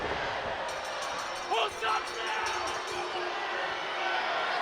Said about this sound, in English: Listen to this crowd. Tearing him a new you-know-what.